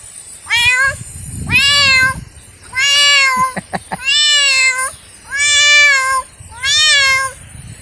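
A voice imitates a cat, giving six drawn-out meows in steady succession, close and loud, with a few quick clicks between two of them.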